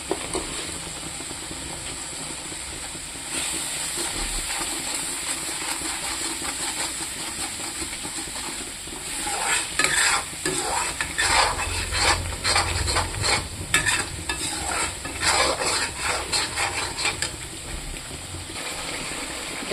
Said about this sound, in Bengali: মশলাটা একটু তেলের সাথে কষিয়ে নেব।